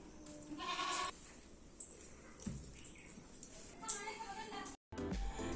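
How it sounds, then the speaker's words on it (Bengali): A domestic goat bleats a few times at moderate distance in a Bangladeshi household setting, short wavering calls over quiet room noise and light background activity. "ছাগল।"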